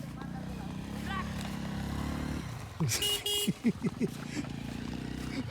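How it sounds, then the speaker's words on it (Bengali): A motorcycle engine drones steadily up close on a Jamuna river char for a few seconds, then cuts out as horn-like tones and a burst of voices take over before the low engine rumble returns. "মোটরসাইকেল"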